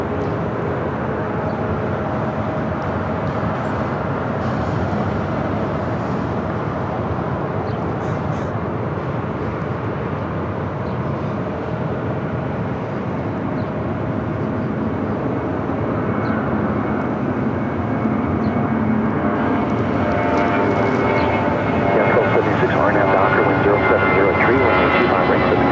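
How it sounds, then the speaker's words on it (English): A twelve-year-old Spirit Airlines Airbus A320 takes off from the south side of LAX bound for Dallas–Fort Worth. Its jet engines give a steady, loud broadband roar that builds slightly toward the end, with someone talking over it throughout. "Our next takeoff here on the south side is Spirit Airlines flight 2456 heading to Dallas, Fort Worth, Texas"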